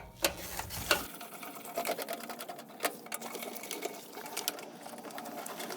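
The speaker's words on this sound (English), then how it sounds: "I use a 1/4-inch drive to remove those. A little bit at a time on each side." A 1/4-inch drive ratchet removes the burner assembly screws on a water heater, giving rapid close clicking in short bursts, fairly faint.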